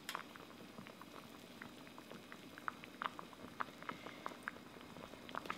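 Cheonggukjang stew with tofu boils steadily in a pot, with soft, irregular bubbling pops and gurgles, close and fairly quiet, with no voices.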